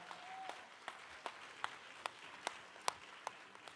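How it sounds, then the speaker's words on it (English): Faint, sparse applause: slow, evenly spaced handclaps, roughly two or three per second, heard from a distance with no talking. "Can we give him one more round of applause real quick for Depa, y'all?"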